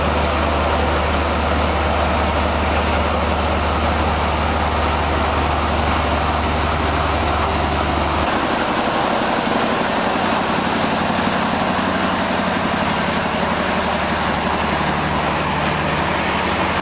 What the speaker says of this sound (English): And that deep, growling engine note, that's the sound of pure hauling power.